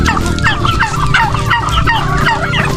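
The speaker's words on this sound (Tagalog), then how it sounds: "mayroon akong naglilimin dito na pabo" A turkey kept as poultry on a banana farm gobbles repeatedly in loud, rapid, warbling bursts, close by and continuous, with other fowl faintly in the background.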